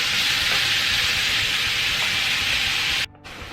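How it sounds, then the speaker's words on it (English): Ground beef browning in a pan for stuffed bell peppers, giving a steady, close hiss of sizzling fat for about three seconds before the sound drops away sharply near the end. "now that my ground beef is almost browned"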